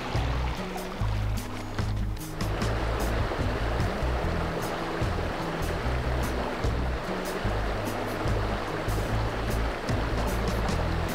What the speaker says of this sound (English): The river's beautiful.